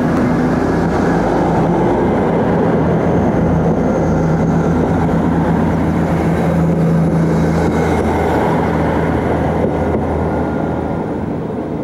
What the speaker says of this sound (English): The real now scene at Sherborne is illustrated by one of the ubiquitous Class 159 unit trains